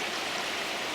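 Fast, deep stream water rushing steadily and close, a dense continuous broadband roar with no pauses or voices.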